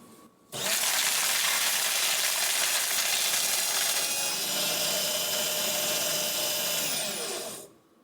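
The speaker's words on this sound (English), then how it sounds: "But let me go ahead and shred a piece of paper." A secure home paper shredder chews through a sheet of paper: the motor kicks in abruptly into a loud, steady whirring grind lasting about seven seconds, then winds down and stops.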